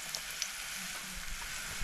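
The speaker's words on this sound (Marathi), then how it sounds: "चांगली अशी बघा फोडणी करपली आहे" Steady crackling sizzle of curry leaves, turmeric and garam masala frying in hot oil for masoor dal, continuous and fairly close, with no voices.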